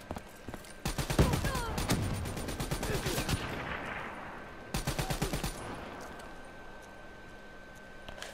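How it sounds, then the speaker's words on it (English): Gunfire in the Black Ops 3 campaign: loud bursts of rapid automatic fire in two separate volleys, the first long and dense, the second shorter, with echoing decay and rumbling ambience between them. "Whoa, stop shooting."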